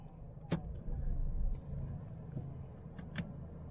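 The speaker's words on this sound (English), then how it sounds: "Well, we'll be driving into a normal drive mode first." Low engine rumble of a Ford Endeavour Titanium Plus 4x4 automatic diesel SUV cruising in normal drive mode, steady and close, with a couple of brief sharp clicks over the continuous road and cabin noise.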